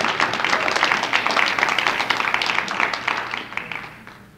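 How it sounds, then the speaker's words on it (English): Audience applause for poets at a poetry reading: sustained clapping from a room of listeners, steady and fairly loud for about three seconds before fading toward the end. "a nice round of applause for all of you."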